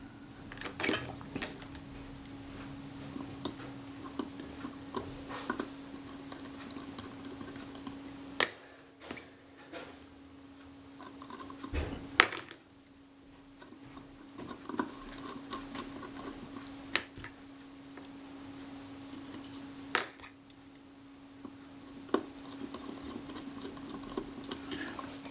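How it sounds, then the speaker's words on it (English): Small screwdriver ticks and ratcheting clicks while three tripod socket screws are tightened into a Kodak Retina Reflex camera body, close and quiet, in intermittent bursts over a steady faint hum. "once the 3 screws are all in position, tighten them up."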